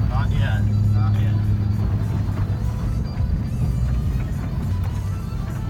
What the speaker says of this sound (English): Just driving on a dirt road here in the mud.